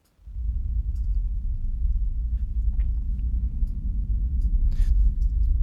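A low-end rumble sample for a Welsh rugby documentary score plays without volume automation: a deep, steady, sustained drone that starts abruptly and holds at a fairly even level, with faint higher crackles scattered on top.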